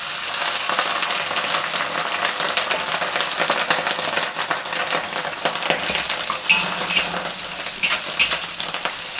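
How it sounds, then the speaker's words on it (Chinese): Dried shrimp frying in very hot oil in a home kitchen, a dense, loud crackling sizzle with scattered pops and a stirring scrape that continues steadily without voices. "看啊，下虾米"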